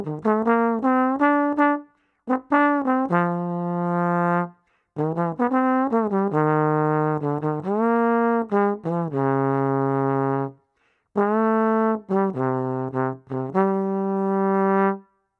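A sustained melodic instrument plays the melody of a Latin jazz tune in clear, connected phrases separated by short pauses; close and steady with no talking.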